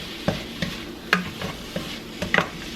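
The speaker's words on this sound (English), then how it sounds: "we're just kind of chopping our Italian sausage up. Just kind of breaking it up" Italian sausage is chopped and broken up with a utensil in a hot pan, giving sharp, irregular scraping taps over a soft, steady sizzle, with no talking.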